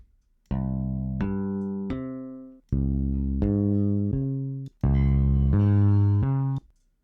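A bass line played on a software instrument in a music production program: three sustained sequences of pitched, harmonically rich bass notes stepping through a short pattern, loud and clean with no talking.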